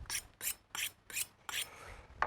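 A butcher's knife trims raw brisket point in a series of five quick, quiet scraping strokes in an even rhythm, close and alone.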